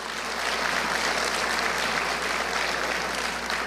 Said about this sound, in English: We can do an applause for that.